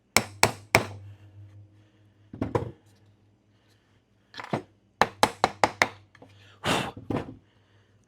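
Hammer taps seat a part into a flight-sim throttle build, sharp close strikes in irregular bursts of two to five blows separated by short pauses, loud and isolated.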